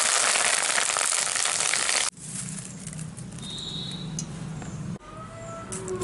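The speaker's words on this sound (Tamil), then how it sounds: "கடைசியாக கருவேப்பிலை கொஞ்சம் பொரிச்சு எடுத்துக்கலாம்." Curry leaves frying in hot oil for kara boondi, a crisp crackling sizzle that starts loud and dense, then drops to a steadier, softer bubbling hiss after about two seconds with a brief dip near five seconds.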